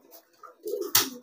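A racing pigeon coos softly in short, low murmurs, ending in a sharp click or tap close by; no one speaks.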